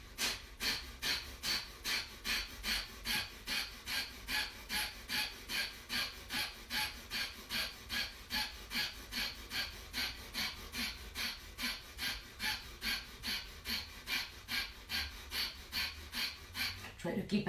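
Forceful rhythmic exhalations during a guided stretching session, a steady train of sharp breathy puffs roughly one per second for the whole stretch, close and even in loudness.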